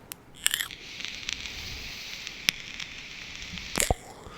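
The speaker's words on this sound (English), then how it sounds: "What you're hearing is the coil vaporizing the liquid inside this tank" A slim vape with a liquid tank on top crackles as its coil vaporizes the liquid, a steady hiss broken by sharp pops and clicks, close and alone.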